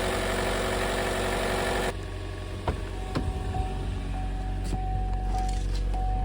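A first-generation Chevrolet Volt engine idles steadily to warm its oil, a constant low drone that drops slightly in level partway through, with a few light clicks and knocks from nearby work over it.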